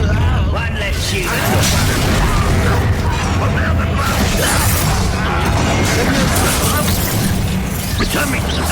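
Confringo explosive spell in Hogwarts Legacy during a loud duel, with bursts and crackling blasts layered over dense, continuous combat noise and occasional voices.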